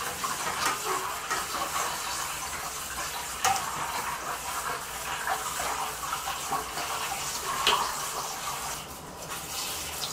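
Water pours from the outlet of an external aquarium filter into a bathroom sink while the filter is disinfected with bleach, a steady close splashing hiss running throughout with a few brief clinks and no talking.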